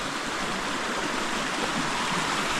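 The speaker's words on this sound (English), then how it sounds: "I could hear the water rushing through there." Water rushes through a bedrock canyon stream along an overgrown hiking trail, making a steady, dense broadband roar with no breaks, voices or other sounds.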